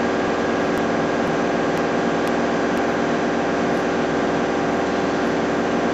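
A hot coat wheel coater's roll turns steadily while a doctor blade scrapes an adhesive curtain from the wheel, giving a continuous, even machine roar and hiss with no pauses.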